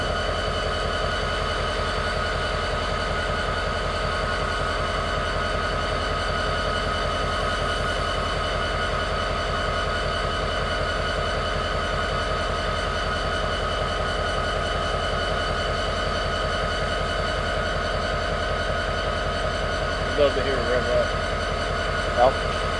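A BNSF EMD GP39-E diesel locomotive idles steadily and loudly at close range, a constant throbbing drone with even harmonic tones, with a brief faint disturbance near the end.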